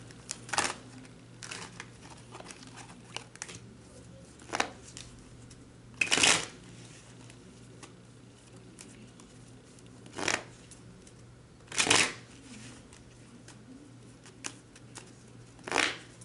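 Tarot cards being shuffled in quiet bursts, about eight short riffling runs spread apart with near-silence between, close and soft with no talking.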